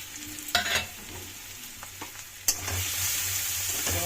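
Steady sizzling of chili, turmeric, coriander and cumin powders frying in a pan, with a couple of sharp stirring scrapes and clatters early on, close and fairly loud, no voices.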